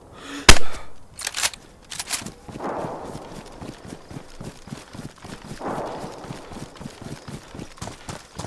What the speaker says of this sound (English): Oh, I'm getting shot by someone else now.